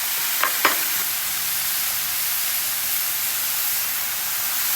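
Garlic sizzles in a tablespoon of oil on a hot griddle, a steady, bright hiss that holds evenly throughout, with a couple of quick scrapes near the start.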